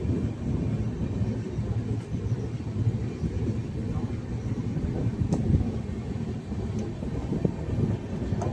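Inside a train on a journey to Purulia, a dull steady rumble of the carriage rolling as it slows down, continuous and fairly loud with faint rattles.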